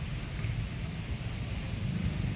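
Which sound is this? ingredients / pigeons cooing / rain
rain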